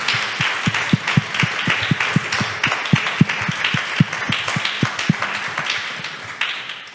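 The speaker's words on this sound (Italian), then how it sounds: "io gli farei un immenso applauso" Audience applause for a book author at an indoor talk, individual claps standing out as sharp near hits over a broad clapping wash that fades at the end.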